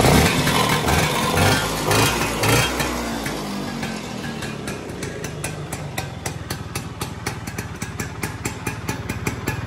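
Vespa scooter engine with a freshly replaced spark plug idling up close, a rough uneven rumble early that settles into a steady rapid putter of regular firing pulses throughout.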